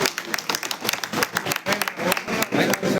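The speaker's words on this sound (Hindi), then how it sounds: "जोरदार तालियां बजा करके" A crowd at a gathering breaks into loud, sustained applause, many hands clapping densely and close for a few seconds before it cuts off.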